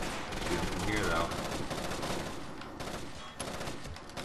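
Rapid video game gunfire from Rainbow Six Vegas 2 crackles in dense bursts, loud and close, with a player's voice talking over the shooting.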